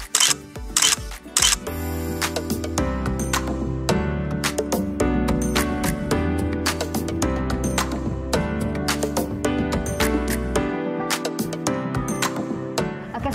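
Camera shutter clicks while photos are taken in an orchid garden in Denpasar, many crisp sharp clicks in an uneven stream, some in quick bursts, over a busy background of music and ambient noise.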